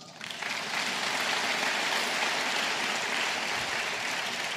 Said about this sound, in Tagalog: Sige po, ituloy niyo po yung palakpak.